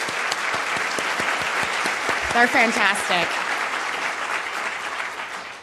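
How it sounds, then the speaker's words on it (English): An audience at the 2017 Food Tank Summit at Tufts University claps steadily for several seconds while a voice briefly speaks over the applause. "I'd like you to join me in giving them a round of applause for helping us."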